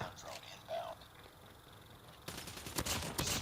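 Gunfire in the Call of Duty video game: faint, scattered sounds at first, then loud, rapid bursts of shots cracking in quick succession.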